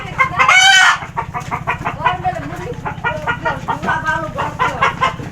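Caged chickens at a village quail farm give a loud squawking call at the start, then keep clucking nearby, with faint voices in the background.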